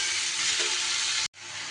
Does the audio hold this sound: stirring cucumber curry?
yes